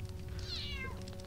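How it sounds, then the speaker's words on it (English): A single drawn-out cat meow from the Harry Potter and the Sorcerer's Stone video game rises and falls over a low, steady game ambience hum. "The fuck did that cat meow like that for?"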